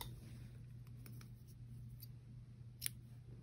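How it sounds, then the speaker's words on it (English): Scissors snip through yarn during a crochet neckline project, one short crisp cut near the end, close and faint over a steady low hum. "So now I'm going to cut my yarn"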